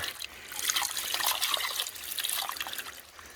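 Water poured from a pitcher to rinse a gold prospecting mat pours and splashes steadily for a few seconds, a bright trickling rush close up, with no voices.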